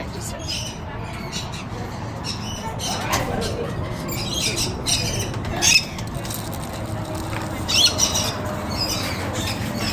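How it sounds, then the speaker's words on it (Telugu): Parrots squawk at an animal farm's rainbow forest aviary in Phoenix, scattered chirps and a couple of sharper squawks standing out over a steady low background murmur, with faint voices nearby. "పిట్టగాళ్ళ సౌండ్ వినపడుతుంది."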